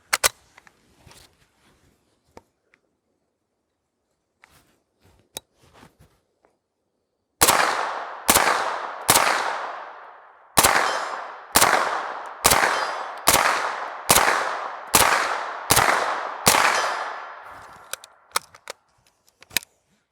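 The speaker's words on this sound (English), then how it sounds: "Let's toss some more of those 115 grain rounds downrange." A pistol fitted with a SureFire Ryder 9 Ti suppressor fires 115 grain rounds at an outdoor range. After a few quiet handling clicks come about a dozen sharp, muffled reports in a fairly steady rhythm, each with a short decaying tail.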